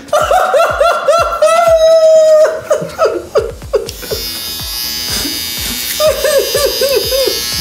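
A Moser Chromini Pro2 trimmer trims the nape of the neck, giving a steady electric buzz that shifts as it moves, mixed with laughter and chatter from people nearby.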